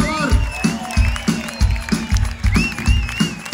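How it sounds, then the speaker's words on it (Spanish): Concert crowd in a Valencia music hall applauds, a dense wash of clapping and cheering under a pounding rhythmic beat and a sustained tone, loud and continuous throughout. "¡Un aplauso, por favor!"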